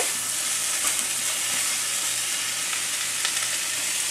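Bacon fries in a pan as its fat renders, giving a close, steady sizzle with a constant crackle and hiss and no pauses.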